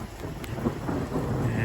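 Thunder rolls through a rainstorm, a low, broad rumble beneath the hiss of steady rain, swelling slightly toward the end.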